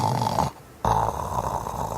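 A person imitates a deep, slow grumbling snore heard from a tent in Wyoming's Wind River Mountains, voicing a rough breath before and after a short pause, loud and close, with no other talk.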